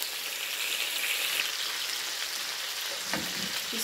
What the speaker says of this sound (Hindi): अब हमने इसको इतना पकाना है कि इसके ऊपर ब्राउन इसका कलर हो जाए